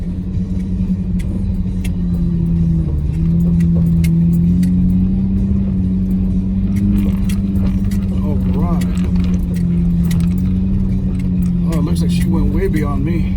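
A Jeep JK or JL engine labours steadily as it climbs back up a rutted dirt hill, a low constant rumble with a faint rattle and a brief tonal squeal near the end.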